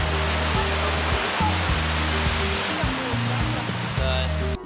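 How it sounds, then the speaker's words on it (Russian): Strong sea waves surge and crash inside a seaside grotto, a loud continuous roaring wash of water with deep rumbling swells, heard up close and without talk. "запомните сейчас вот эти вот жесткие волны"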